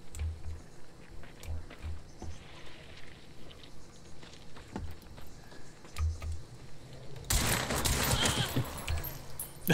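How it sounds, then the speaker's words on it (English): In the video game Hunt Showdown, a gunshot lands as a headshot: a loud, sudden broadband blast that rings out for a moment, after a stretch of quiet footsteps and soft low thuds. "That was a headshot."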